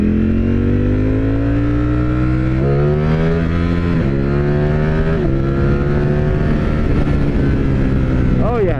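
A 2021 Ducati Streetfighter V4S motorcycle accelerating hard, engine pitch climbing through several gear shifts, loud and close with wind noise throughout.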